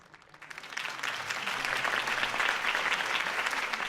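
Applause from a crowd swells quickly and holds steady, a dense wash of clapping hands that fills the space.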